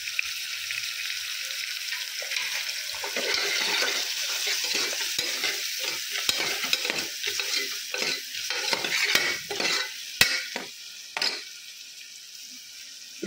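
Onions sizzle and fry in a pan with turmeric added. The hiss is steady and close, broken by irregular scraping and stirring strokes, and no one speaks.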